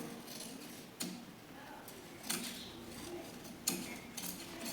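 Scissors cut through the fabric of an old nightie, giving three sharp snips spaced about a second apart over a soft background hiss, close and fairly quiet.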